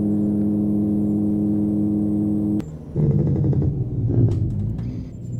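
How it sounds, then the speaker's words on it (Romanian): Volvo truck with a 630 hp engine in a Euro Truck Simulator 2 sound mod holds a loud, steady engine drone. It abruptly shifts to a rougher, surging rumble as the truck is pushed to full acceleration, with no one talking. "Sună într-un mare fel aici, dacă l-accelerez maxim"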